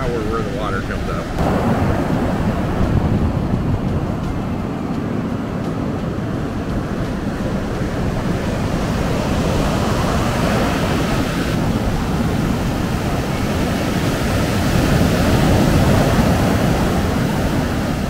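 Ocean waves wash up on a beach at Redwood National Park: a loud, continuous surf roar with wind rushing across the microphone, swelling slightly near the end, and no clear voices.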